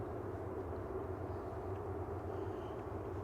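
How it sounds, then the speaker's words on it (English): An Aer Lingus Regional plane arriving at Manchester Airport, a steady low engine drone heard from a distance, faint and even with no talk. "Aer Lingus Regional coming in next"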